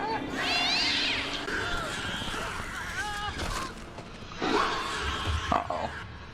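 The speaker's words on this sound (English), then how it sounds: "Is that a cat?" Cat meowing inside the video game Alien: Blackout, a few drawn-out mews rising and falling amid game sounds and a voice talking.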